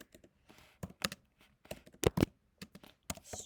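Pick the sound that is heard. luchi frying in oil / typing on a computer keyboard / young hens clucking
typing on a computer keyboard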